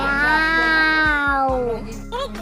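A cat gives one long, drawn-out meow, loud and close, falling slightly in pitch before it fades, followed by a short quiet stretch with faint household noise.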